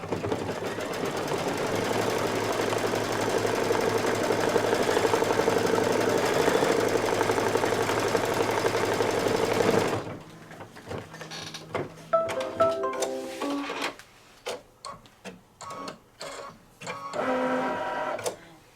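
Embroidery machine running a tack-down stitch for Santa's hat on a table runner: a dense, rapid mechanical rattle for about ten seconds, then it stops and gives way to scattered clicks and short taps.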